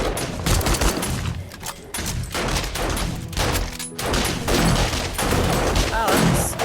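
A gun firing armor-piercing ammo in 7 Days to Die rattles off rapid, loud bursts mixed with other combat noise and booms, under a speaking voice throughout.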